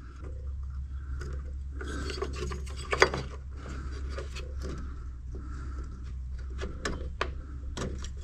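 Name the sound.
dental pick tool prying BMW F10 headlight clips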